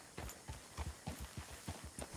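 Horse hooves clip-clop on the ground in the Red Dead Redemption 2 video game, a close, steady run of dull thuds in a walking rhythm, heard alone.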